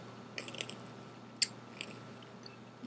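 A few quiet, crisp crunching bites of a cheddar mini pizza, with one sharper crunch partway through, close up and without talking.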